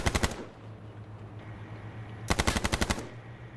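Gunfire in the video game H1Z1: two loud rapid automatic bursts, one at the start and a longer one near the end, with a quieter hum between them.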